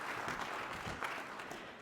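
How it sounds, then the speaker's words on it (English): Faint, steady applause from an audience at a talk on nutrition and Parkinson's disease, a soft wash of clapping heard at a distance. "a round of applause for Jessica"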